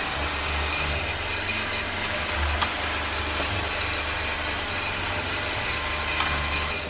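A bobbin winds on a longarm quilting machine with a steady, low motor hum and faint mechanical whir running throughout, close and unbroken with no talk.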